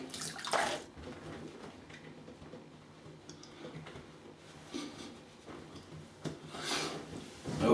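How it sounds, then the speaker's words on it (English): Water splashing as a face is rinsed after a shave with a Merkur Progress razor, soft intermittent splashes and dribbles close by in a quiet room. "which I'll do once I have a rinse and then I'll come back."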